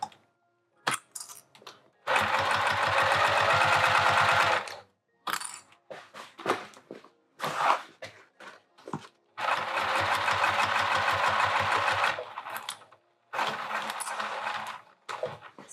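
A sewing machine stitches layers of vinyl for a handbag, running in two long steady bursts of rapid mechanical whirring separated by short clicks, handling noises and pauses.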